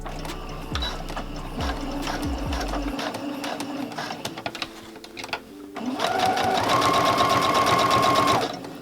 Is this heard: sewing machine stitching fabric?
yes